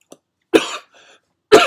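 Two separate coughs, a sharp close one followed about a second later by another, with a faint throat sound in between and silence around them.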